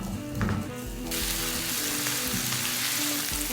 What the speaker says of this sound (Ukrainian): І смажу до напівпрозорості.